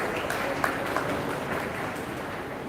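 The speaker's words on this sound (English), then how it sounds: "Give them a round of applause." Audience applause at an awards prize distribution ceremony, a dense continuous wash of clapping from a crowd that holds steady and fairly loud throughout, heard from a distance in a large hall.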